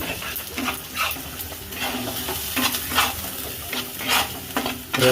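Ginger garlic paste is stirred and fried in a kadai, a spatula scraping the pan in repeated strokes over a steady sizzle, close and fairly loud.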